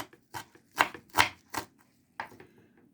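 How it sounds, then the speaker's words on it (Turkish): A knife chops a bunch of fresh parsley on a cutting board in a home kitchen, with a few sharp, close taps in an uneven rhythm and short pauses between them, and no voices. "İnce ince maydanoz demetimi doğruyorum"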